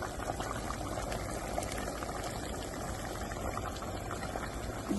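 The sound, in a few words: squid boiling in a pot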